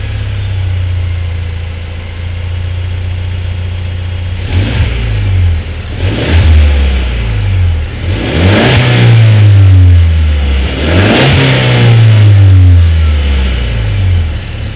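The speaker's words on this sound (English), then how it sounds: "Here is that exhaust clip." A 2019 Ford Ranger pickup's exhaust rumbles at idle, then revs four times in a row, each rev swelling loud and deep before dropping back to a throaty idle.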